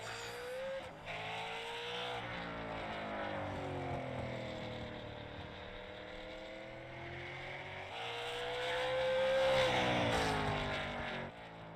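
A super late model race car on a qualifying lap at Oxford Plains, its engine wailing loudly and continuously with pitch sweeping up and down through the corners, swelling near the end.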